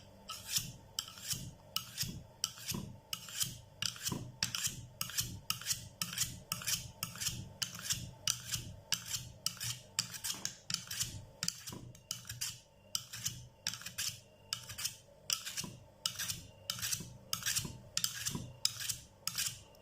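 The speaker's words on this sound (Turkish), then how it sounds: "Diğer bıçağımızın ağzına değil şu sırt kısmıyla şu kenarıyla bileceğiz." A kitchen knife is sharpened by drawing its edge along the spine of a second knife, giving about thirty evenly spaced, close metallic rasping strokes in a brisk regular rhythm, with no voices.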